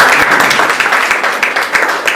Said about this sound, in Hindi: ताली जरा से हो सकती।